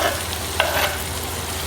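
Sliced tomatoes dropped into a pan of browned onions for a mutton biryani, giving a steady close sizzle with a brief stirring scrape partway through.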